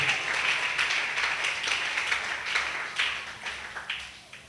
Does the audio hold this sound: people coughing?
no